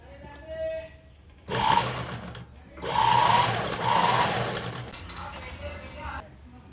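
A sewing machine stitches saree fabric in two loud, close, whirring runs, the second one longer, separated by quieter pauses, with a voice talking near the machine.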